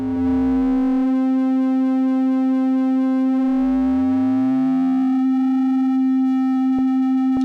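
An AE Modular 555 oscillator holds a steady synth pitch while a noisy layer of sweeping, chirping tones glides over it, loud and continuous with no voices.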